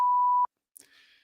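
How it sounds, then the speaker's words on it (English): A single steady censor beep tone runs for under half a second and cuts off sharply, followed by a brief faint vocal sound. "had to beep it out"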